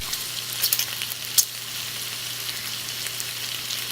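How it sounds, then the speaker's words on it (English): Bacon sizzling and frying in a pan, a steady dense crackle with a few sharper pops near the start, close and even throughout with no voices. "Now here's the same clip, only it has the sound of bacon sizzling."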